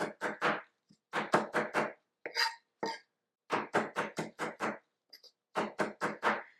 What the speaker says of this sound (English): We're just chopping it into very, very small pieces.